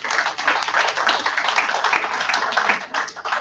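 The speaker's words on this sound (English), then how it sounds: "Another round of applause" Audience at an evening lecture on sports and law gives a dense, sustained round of hand clapping, fairly loud and close, holding steady for a few seconds.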